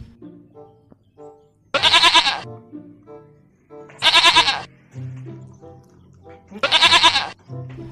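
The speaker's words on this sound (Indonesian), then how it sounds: "Ada kambing, teman-teman." Three loud goat bleats at regular intervals, each about a second long, with quieter electronic game music and effects in between, in Jurassic World Evolution 2.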